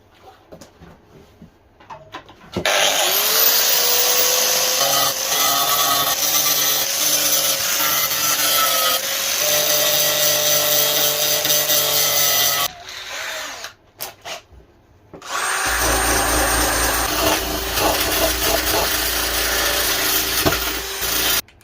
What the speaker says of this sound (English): So let's get the grinder out,